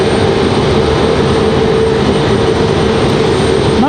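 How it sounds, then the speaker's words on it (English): A CRJ regional jet arriving at Raleigh-Durham airport after a flight from LaGuardia, its engines making a loud, steady broadband roar with a faint tonal whine, continuous and close. "There's our CRJ. Again, this one coming in from LaGuardia."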